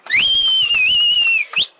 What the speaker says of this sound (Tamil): தம்பி விசில் அடிக்க வேணாம்ப்பா.